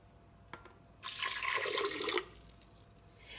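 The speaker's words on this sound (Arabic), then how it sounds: "وغادي نزيد لتر من الماء من فوق هذا الخليط" Water pouring from above onto a thick blended juice mixture, a steady splashing rush that starts abruptly after a small clink, runs about a second, then stops, close and moderately quiet.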